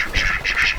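Ducks on a farm quacking in a couple of loud, close nasal bursts, with no talking over them.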